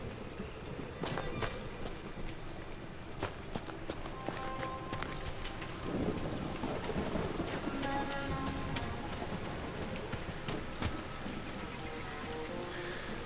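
Stormy rain falls steadily in a murky mire setting of a fantasy video game, a soft continuous patter with scattered clicks and drips, fairly quiet throughout.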